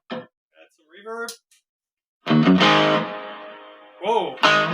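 An electric guitar plays through a guitar amp with reverb added, first a few short picked notes, then a loud sustained chord that rings out with a lingering tail before more strums.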